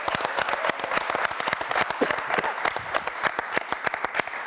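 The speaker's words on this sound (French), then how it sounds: "je vous demande d'applaudir très fort Yoann Lidon." An audience bursts into loud, sustained applause for boxer Yohan Lidon, dense rapid clapping from a crowd indoors that stays strong for several seconds.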